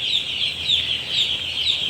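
Many young broiler chickens in a brooding house, a dense, continuous chorus of high peeping and chirping calls, close and fairly loud, with no voices.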